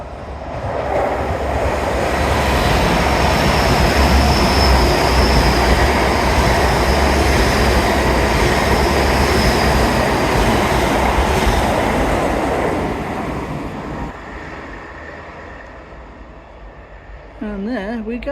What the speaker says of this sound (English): No time to check on real-time trains because here it comes